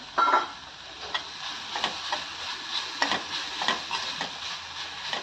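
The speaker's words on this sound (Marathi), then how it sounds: "आता ही मेथी मी होती कापलेली ती आता त्याच्यामध्ये ॲड करते ती पण चांगली परतून घेऊया" Chopped fenugreek leaves sautéing in an everyday kadhai for a methi-potato bhaji, a soft steady sizzle broken by light scraping and stirring knocks close by.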